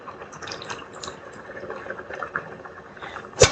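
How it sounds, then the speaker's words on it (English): Water pours into a pot of wilting collard, mustard and turnip greens, a quiet, uneven trickle and splash with small drips, ending in one sharp clank. "All right, now just pour this water in there."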